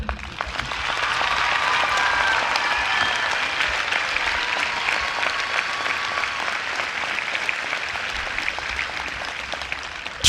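Applause from the crowd at a 2020 high school graduation ceremony, a steady, moderately loud spread of clapping that continues evenly for about ten seconds and tapers slightly near the close.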